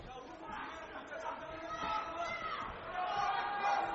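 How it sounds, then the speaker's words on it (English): Kickboxing arena crowd in a 67 kg lightweight bout swells into excited, cheering noise, a broad wash of voices that grows louder toward the end; no clear single speaker. "The crowd getting animated behind the fighter from Nebraska."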